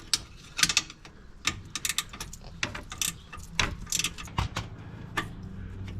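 A ratchet breaks loose the mounting bolts on a Polaris General XP, giving quick bursts of sharp clicking separated by short pauses and metallic clinks, close and fairly loud.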